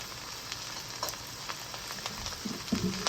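Spring onions tossed into a hot pan of coconut fried rice, giving a steady close sizzle with scattered stirring scrapes and clinks, no voices.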